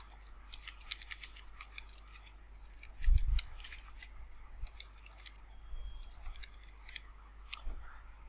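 A pen writes by hand on paper in a quiet room, giving a series of dry, scratchy strokes and light taps with short pauses, plus one louder thump midway. No one speaks.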